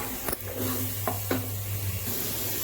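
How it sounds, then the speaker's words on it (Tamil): A ground tomato and green chili paste sautéing in a pan for vegetable kuruma, with a steady hiss of frying and a few sharp scrapes and stirs of a spoon, close and moderately loud, no talking. "இதோட நம்ம அரைச்ச தக்காளி, பச்சை மிளகாய் விழுத சேர்த்து இதை ஒரு நிமிஷம் போல் வதக்கிக்கலாம்."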